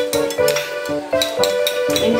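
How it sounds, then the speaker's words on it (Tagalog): A utensil repeatedly scrapes and clinks against a bowl as homemade salad is mixed with mayonnaise sauce, a close, rhythmic stirring of about six strokes with a faint tonal ring. "Mix natin ho."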